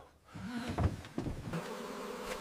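A bee buzzes close by with a wavering drone that swells and fades, mixed with a few faint knocks in the background.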